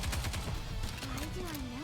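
Rapid bursts of firecracker pops crackle from the video game Goddess of Victory: Nikke, dense sharp cracks layered over game music and tones, with a voice faintly present beneath.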